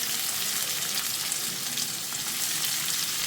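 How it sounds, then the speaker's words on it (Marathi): Two chopped onions go into a pan with garlic and fry in hot oil, giving a close, dense, steady sizzle with no talking over it. "सो आतां घालता हांव कांदे हांगासर 2 कांदे हांवें चॉप करून घातला ते घालता"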